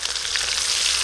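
Garlic paste sizzles in oil already holding whole cardamom, cloves, cinnamon and onion paste; a brief, loud, even frying hiss close to the pan with fine crackle and no talking.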